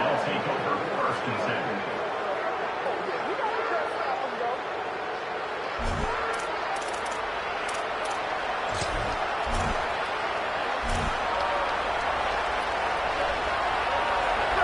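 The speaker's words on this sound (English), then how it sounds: "This crowd ready to make its presence known." A stadium crowd at a Michigan vs. Nebraska college football game keeps up a steady, dense roar, heard throughout under a commentator's continuous talking.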